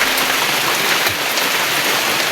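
Heavy rain pours down in a loud, constant hiss of dense drops drumming on surfaces close by, unbroken for the whole stretch, with no one talking.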